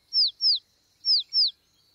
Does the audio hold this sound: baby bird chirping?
yes